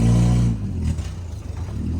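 A 1964 Jeep CJ5 engine, stuck for a long time, revs loudly and then settles into a lower rumble as the vehicle starts moving, with some clatter under the engine noise.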